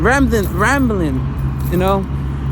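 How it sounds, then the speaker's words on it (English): A loud truck's deep engine rumble drones steadily nearby while a person keeps talking over it. "Sorry, there's a really loud truck here."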